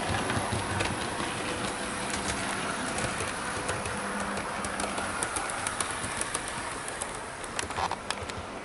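A Bachmann Class 47 model locomotive runs steadily on a layout with a continuous rolling rumble and faint clicks from the track. No one is talking.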